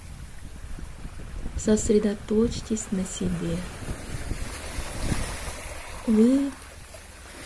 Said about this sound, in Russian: Прислушайтесь к шуму волн.